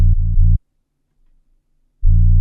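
A dry drill 808 bass in FL Studio with all effects switched off plays loud, deep sustained notes: a short run of pitch-shifting hits, a silent gap of over a second, then another booming note returning.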